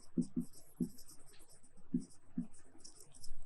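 Pen or marker scratching out numbers on a board or page in a class, several short separate strokes with pauses, faint and close, with a quiet background.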